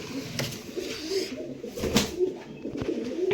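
Pigeons in a loft give soft, low cooing calls that repeat over a faint background of rustling and movement, fairly close but quiet.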